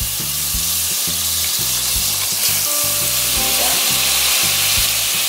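Butter melting for a roux in a pan, a loud, dense, even sizzle with a low rhythmic hum beneath, close by with no talking.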